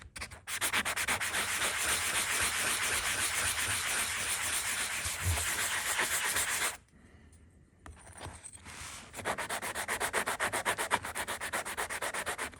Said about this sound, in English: just do a quick sand on it, just so then you can rough it up